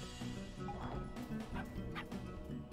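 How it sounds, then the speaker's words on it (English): Short barks from the Rude Dog in the video game Finding Paradise, a handful of sharp yips spaced across the moment over looping background music, soft in level. "now the Rude Dog's here."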